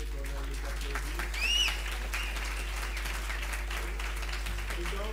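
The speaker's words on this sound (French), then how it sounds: "Nous allons applaudir Nivala Tineris et aussi Valérie Tarantier" An audience claps at an academic colloquium, a steady, even wash of applause that continues throughout with no single standout claps.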